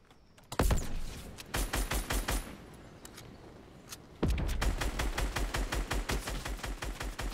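Rapid bursts of gunfire in a Fortnite match, loud and close, with sharp repeated shots in a short cluster, a pause, then a long steady automatic volley rattling on to the end.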